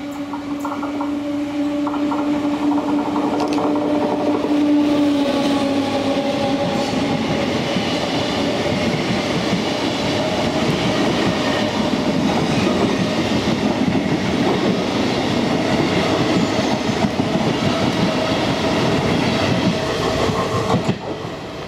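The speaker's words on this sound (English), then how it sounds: "as 27363 pushes north with a train from Mantes to La Jolie." A locomotive-hauled passenger train from Mantes pushes north through Argenteuil station near Paris, with a loud, continuous rolling roar and rattle of wagons. A whine fades early on, and the rumble stays steady for the full passage.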